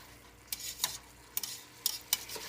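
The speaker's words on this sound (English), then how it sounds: "And let the onion saute down and let your hamburger finish" Onion and hamburger meat sautéing in a pan on a home stove, a quiet sizzle with a few sharp spoon scrapes and clinks as the mixture is stirred.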